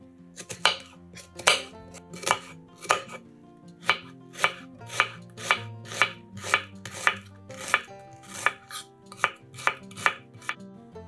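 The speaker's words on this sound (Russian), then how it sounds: "Одну луковицу нарезаем кубиками." Steady, rhythmic knife chops dice an onion on a cutting board, with roughly twenty crisp, close strikes in a regular beat.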